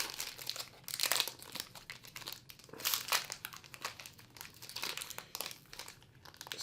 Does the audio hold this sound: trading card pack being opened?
yes